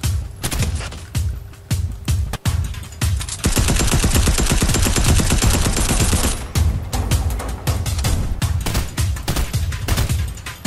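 Sustained Fortnite gunfire, loud and close, with rapid repeated shots and a dense unbroken automatic burst in the middle, then more scattered shots.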